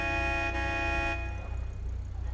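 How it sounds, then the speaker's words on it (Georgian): A car horn in the video game GTA 5 blares in one sustained, loud honk of about a second, then cuts out, leaving a low steady engine rumble underneath. "ვინმე დამეხმარეთ სიგნალით მივანიშნებ"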